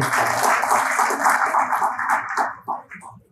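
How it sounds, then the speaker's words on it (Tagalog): An audience at a sales event claps together in a thick, even wash of applause that fades out near the end, leaving a few scattered claps. "Palakpak kung naniniwala kayo doon"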